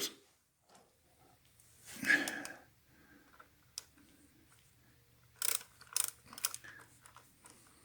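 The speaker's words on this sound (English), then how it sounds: "Let me get a little wrench and we'll tighten that on there." A small 5/16 wrench tightens a bolt while a starter motor is installed on a 2002 Harley Softail. The close, quiet sound has sparse clicks and a short scrape, with a few sharper ratcheting ticks near the end.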